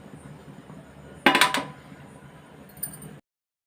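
A metal plate lid is set down over a pot of simmering goat intestine gravy, with one loud clattering clank followed by a smaller clink of metal a moment later.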